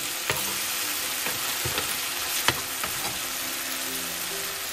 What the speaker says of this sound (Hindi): और इन सबको अब अच्छे से मिक्स कर लेंगे।